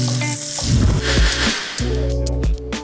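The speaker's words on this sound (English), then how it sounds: "I'm gonna add this beautiful sausage and crumble it with my fingers into the pan" Crumbled sausage sizzles and fries steadily in a pan, a close, continuous crackling hiss with a few louder bursts as the meat shifts, while a low tonal hum runs underneath.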